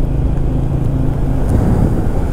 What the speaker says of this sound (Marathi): हो बस आहे मोठी.